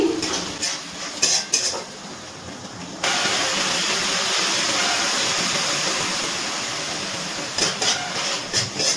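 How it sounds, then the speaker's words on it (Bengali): Ginger garlic paste sizzling steadily as it is sautéed with onion in a pan for a Bengali potato chicken curry, with a few clinks of utensil against the pot at the start and end. "পেঁয়াজের সাথে ভালো করে আদা রসুন বাটা কষিয়ে নিতে হবে।"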